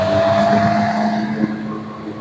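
A strong steady whoosh of air from an AC/DC room air cooler fills the space, with a faint tonal hum riding under the broad rushing noise and a brief bump near the end.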